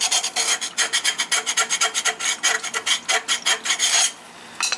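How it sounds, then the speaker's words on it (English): Rhythmic rasping strokes scrape a metal part of an oil-fired lowboy furnace with a rear flue during its annual service, about twenty quick passes close up and steady before the scraping stops near the end. "Give this thing a good scraping."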